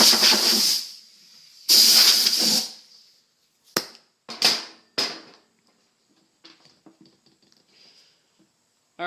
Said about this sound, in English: I'm going to get my compressed air here and blow the table off.